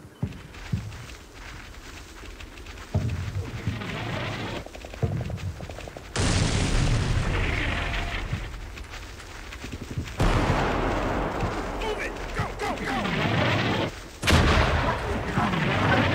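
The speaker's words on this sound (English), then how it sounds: "Looks like the artillery is starting to let up" Artillery fire and explosions in the war game Combat Mission: Black Sea, several heavy booms and blasts at irregular intervals with rumbling decay between them.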